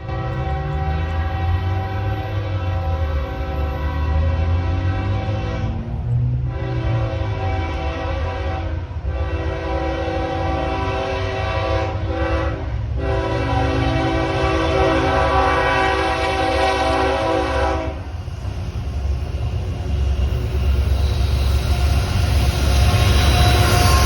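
A freight train rumbles past near Austell with loud clattering wagons, its horn sounding in long blasts broken by brief gaps, the whole passage steady and close.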